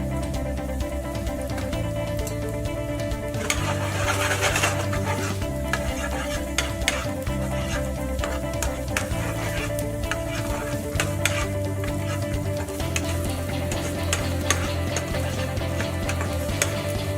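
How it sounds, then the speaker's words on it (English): Capsicum stir-frying in a pan for spring rolls sizzles continuously and loudly, with frequent scraping clicks from the utensil tossing the vegetables throughout. "I'm adding some of my capsicum,"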